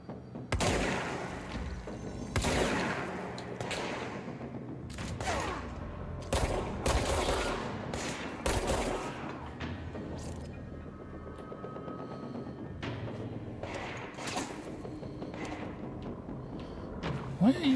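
Gunfire in the video game Control comes as a string of loud, punchy shots spaced irregularly over a busy combat soundscape, with heavier bursts early on and scattered shots later.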